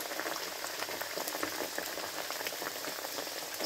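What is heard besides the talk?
naan pakoras frying in hot oil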